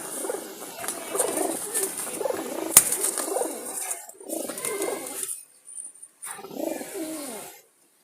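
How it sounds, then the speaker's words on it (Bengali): Jalali pigeons coo and scuffle up close, with soft throaty cooing phrases and flurries of wing flapping coming in repeated bursts between brief pauses. "এই যে নরগুলো মারামারি করতেছে এই যে দেখেন এই যে ডাকাটাই করতেছে"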